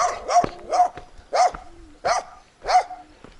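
A dog barks five times in short, sharp bursts, close and loud, with brief pauses between each bark.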